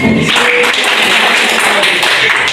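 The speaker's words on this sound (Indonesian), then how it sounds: "Tepuk tangan buat Rehan" Classroom applause for a student named Rehan: a steady wash of many hands clapping continuously, fairly loud and close, with no words spoken.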